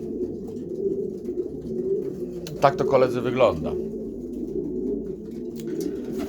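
Pigeons from a racing loft cooing softly and steadily in the background, a low murmuring bed with a brief burst of wing flutter and calls in the middle, while someone speaks over them.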